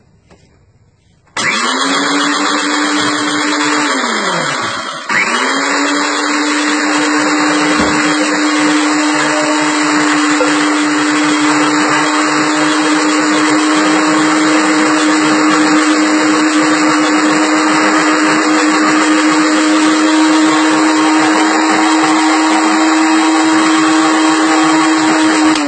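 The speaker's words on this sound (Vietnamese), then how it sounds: "Rồi bây giờ mình sẽ cho vào cối để mình xay các bạn ạ" An electric blender starts with a sharp whir and grinds peanuts for rice cake batter steadily at a high, constant pitch, briefly dipping once before settling into continuous loud whine.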